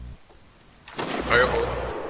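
A line of musketeers fires a volley in Mount and Blade: Warband, a sharp loud crack that follows a quiet moment and then trails off into rumbling echo, with a voice nearby.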